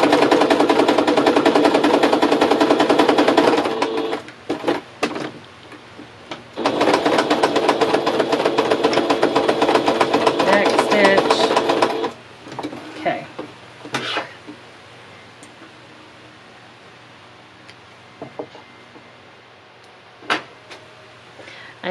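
A sewing machine stitches over the seam of a fabric bowl koozie, running in two loud, fast, steady bursts, then falling to scattered clicks and short stitches as it slows and stops.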